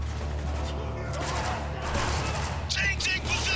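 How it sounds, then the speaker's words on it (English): Gunfire in Spec Ops: The Line, a volley of sharp overlapping shots and bursts at close range that mixes with shouted voices. "Shoot him in the leg."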